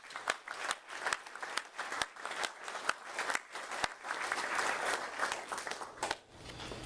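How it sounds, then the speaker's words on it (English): Audience applause at a 2011 TCADP Champion of Justice awards evening honoring Rep. Jessica Farrar. Crisp, crackling claps from a moderately sized crowd build and continue for several seconds before fading out. "I think they deserve another round of applause"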